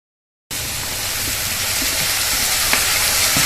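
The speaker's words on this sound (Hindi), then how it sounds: "जैसे हमने प्याज भुना था उसी तरह से हमको टमाटर को भी भूनना है।" Tomatoes fry in a pan for restaurant-style matar paneer, giving a steady, loud, close sizzle that starts abruptly and holds evenly, with faint stirring scrapes underneath.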